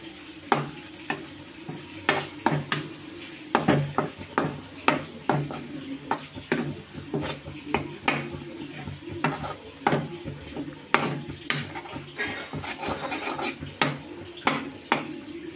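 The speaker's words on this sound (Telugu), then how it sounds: "కారం పచ్చివాసన పోయేదాకా వేగనిద్దాం." A steady sizzle of chilli powder and coriander powder frying runs under repeated scraping and clinking as a spoon stirs against a metal pan, irregular knocks throughout.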